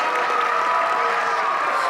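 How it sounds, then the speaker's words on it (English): Audience applause for the drummers at a fourth grade school winter concert, a steady dense wash of clapping from a crowd, sustained and even throughout with no voices standing out. "Can I just get another round of applause for my drummers?"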